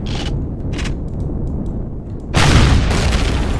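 A rocket blast in the space survival game Empyrion, a loud booming explosion bursting in suddenly after a stretch of low rumbling game noise and lingering for over a second.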